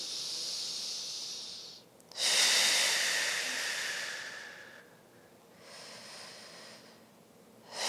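A deep, airy breath in and out during a gentle postpartum core exercise: a long hissing inhale, then a stronger exhale, followed by softer breaths, close and quiet with no talking.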